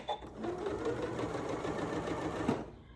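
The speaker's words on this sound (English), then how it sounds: "Now I'm going to back stitch." A Janome Memory Craft MC9450 electric sewing machine back stitches across a zippered fabric pouch, a steady fast whirring and needle chatter running for nearly three seconds at moderate volume before it stops.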